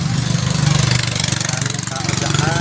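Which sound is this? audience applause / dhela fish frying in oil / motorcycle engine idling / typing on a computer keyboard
motorcycle engine idling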